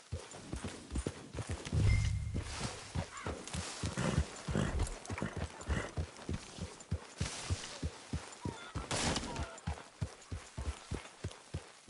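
A horse in Red Dead Redemption 2 clip-clops at a steady walking pace. The hoofbeats sound close and fairly soft against a quiet ambient background.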